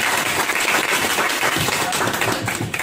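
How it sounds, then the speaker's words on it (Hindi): A small group claps loudly for a student at a mobile phone repair class, a dense, steady burst of hand claps close by that keeps going from start to finish. "इनके चेतन के लिए भी एक बार जोरदार ताली बजा दो।"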